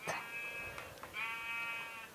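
Two bleats from a sheep in the video game Minecraft, each a short wavering cry, the second longer and steadier, heard close and clear with no talk over them.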